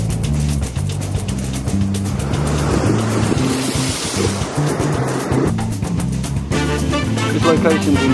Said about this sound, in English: The waves just pound.